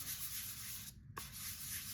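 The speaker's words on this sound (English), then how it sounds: "I moved to 220 grit sandpaper, followed by 400 grit sandpaper." Steady, coarse rasping of 220 and 400 grit sandpaper scrubbing a gloss coat, continuous and close, with a brief pause near the middle before the rubbing resumes.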